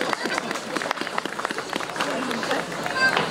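Audience at a Palm Sunday folk event in Łyse, Poland, applauding: a dense, steady patter of clapping from a crowd, fairly loud and continuous, with no talk over it.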